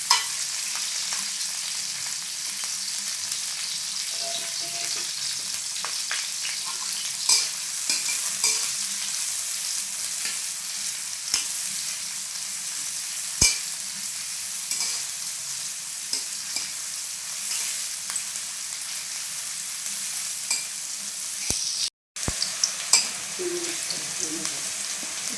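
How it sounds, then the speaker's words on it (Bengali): Onion and chili fry in hot oil in a wok, a soft, steady sizzle running throughout with scattered spatula scrapes and clicks and a brief dropout near the end. "এই তো পেঁয়াজ মরিচ একসাথে দিয়ে নিলাম, তো এটাকে ভাজবো।"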